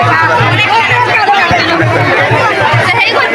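A dense, loud crowd at the Khaira Rath Yatra chariot festival fills the air with constant overlapping chatter and hubbub, close by and continuous.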